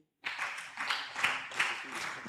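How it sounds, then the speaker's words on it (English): A university academic conference audience claps steadily in a dense, even patter that rises in waves, fairly loud and close. "Give people, clap for them."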